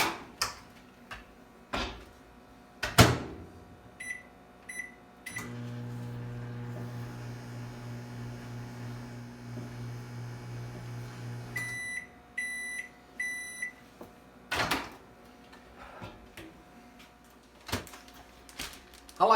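A microwave oven hums steadily for several seconds, heating honey, bracketed by beeps and clicks of buttons and the door, with scattered handling noises around it.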